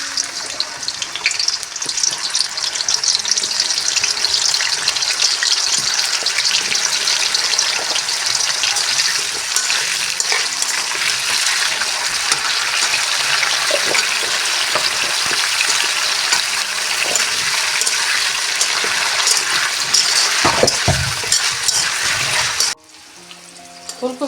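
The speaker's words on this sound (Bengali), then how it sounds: "ফুলকপি আর আলুটাকে ভেজে নেই হালকা।" Cauliflower florets frying in hot oil in a wok, a loud, steady sizzle with occasional stirring scrapes running throughout before cutting off abruptly near the end.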